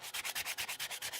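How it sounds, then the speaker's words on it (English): Sandpaper rubs back and forth over a hand-carved topwater fishing lure in quick, even strokes, about ten rhythmic scratchy passes, close and fairly quiet. "I'm going to keep sanding this smooth"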